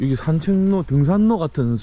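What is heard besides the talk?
None of the usual background noises is heard.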